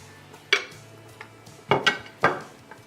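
Brinjal and raw mango get mixed into a mutton dalcha curry in a metal pot, a few sharp clanks and scrapes of a spoon against the pan in short bursts over quiet background.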